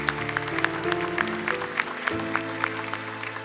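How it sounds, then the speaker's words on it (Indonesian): A studio audience at a televised children's Quran memorization competition claps in steady, evenly spaced beats. Sustained musical tones play beneath the clapping, and no one speaks over it. "Boleh tepuk tangan dulu untuk Umi."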